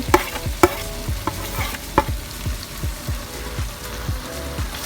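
Mutton biryani masala with tomatoes and onions being stirred in a pot, a spoon scraping in a steady repeated rhythm over a soft sizzle, close and moderately loud.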